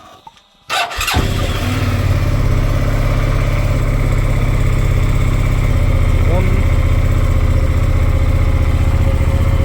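Motorcycle engine cranked and fired in cold outdoor air with the clutch held, catching within a second and then settling into a steady, loud, close idle for the rest of the clip.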